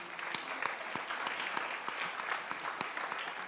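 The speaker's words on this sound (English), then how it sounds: "would you please give a round of applause to all of our candidates, please?" A debate audience for Tallahassee city commission candidates gives a round of applause, a dense, even wash of clapping heard from some distance and fairly soft, continuing steadily for the whole stretch.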